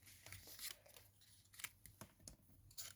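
Scissors snip through the torn edge of a paper scrap, a few quiet, close cuts with small crinkles of paper in between, spread across a hushed craft desk.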